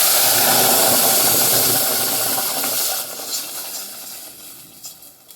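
A loud, steady hiss of paneer butter masala gravy bubbling and steaming in a hot pan gradually quietens, leaving softer crackles and bubbling.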